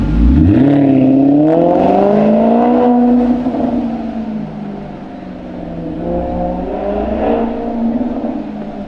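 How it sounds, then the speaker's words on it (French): A naturally aspirated V8 sports car engine roaring as it starts, a loud, rising rev that swells then settles into a lower, steady idle, heard close with no talking. "Et pour laisser rugir le V8 atmosphérique."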